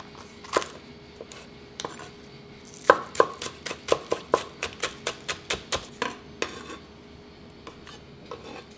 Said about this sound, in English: 1 chopped green onion.